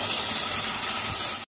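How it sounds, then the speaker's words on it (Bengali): Water poured into a hot cooking pot while a vegetable curry is on the stove gives a loud, continuous hiss and sizzle of steam lasting about a second and a half, then cutting off abruptly, with no talking. "এখন এতে জল দিয়ে দেবো। এখানে জল দিয়ে দিয়েছি"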